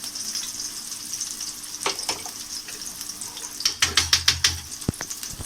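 Noodles tipped into a hot cooking pan, a soft background sizzle broken by a few clacks and then a burst of rapid rustling, crackling frying.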